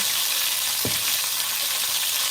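Steady, hissing sizzle of chicken frying in hot oil on a stove for brown stew chicken, close and constant, with one brief low thump partway through.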